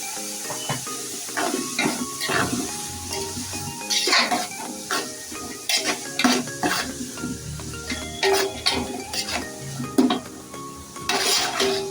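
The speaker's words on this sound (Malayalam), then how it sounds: "സവാളയിൽ കുറച്ച് ഉപ്പിട്ടുള്ളത്, അപ്പോൾ സവാള പെട്ടെന്ന് വഴണ്ടി വരും." Onions with salt sauté in a pan for a Kerala-style beef fry, a steady close sizzle broken by repeated scraping and clinking of a spoon stirring against the pan.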